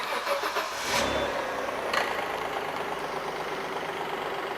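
A V6 car engine, set up for E85 ethanol running, cranks and catches at once, settling into a steady idle hum that continues close and even after the start.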